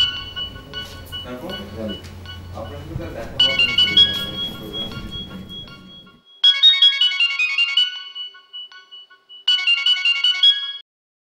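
A mobile phone ringtone plays in repeated melodic bursts with short pauses between them, loud and close, after a stretch of people talking indoors.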